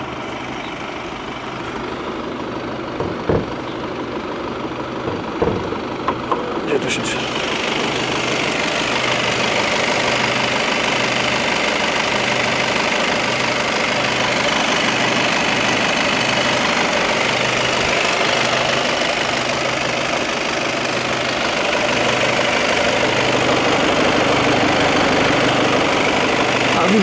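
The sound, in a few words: VW Passat B8 2.0 TDI diesel engine idling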